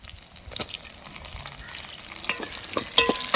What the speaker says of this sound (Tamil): எண்ணெயில் வெங்காயம் வெள்ளப்பூடு பச்சை மிளகாலாம் கொஞ்சம் நேரம் வதங்கி வரட்டும்